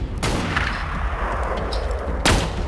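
Heavy gunfire from a gunship in the video game Borderlands 2, with two sharp, loud blasts opening and closing a stretch of rumbling explosive noise.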